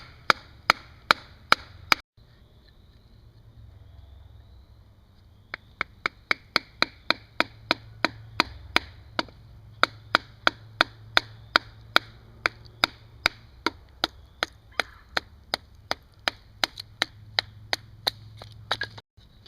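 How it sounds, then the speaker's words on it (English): Steady chopping with a blade on a piece of wood being carved into a survival spoon, sharp near strikes coming in a rapid regular rhythm with a short pause near the start, no talking. "I'm just going to keep chopping this down until I get a thickness of about this side."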